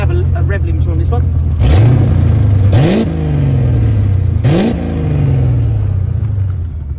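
A 1989 Corvette C4 convertible's 5.7 V8, fitted with a performance exhaust and automatic gearbox, is revved twice in sharp rising blips that drop back to a loud, close, burbling idle, with someone speaking at the start.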